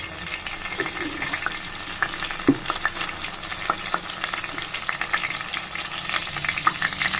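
Mustard seeds fry in hot oil in a pan, a steady close sizzle dotted with small pops and crackles throughout.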